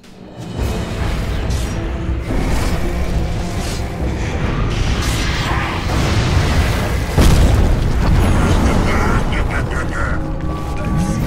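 A tower being destroyed in the video game Dota 2: booming, crashing destruction rumbles on for several seconds amid dense game effects, with talk running underneath.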